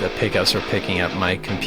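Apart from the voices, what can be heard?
No distinct noise like a dog, phone or traffic.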